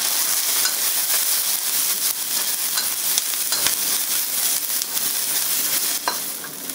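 Half a cup of onions stir-frying in a hot wok for chicken and broccoli in black bean sauce, a loud dense crackling sizzle with scraping stirs throughout.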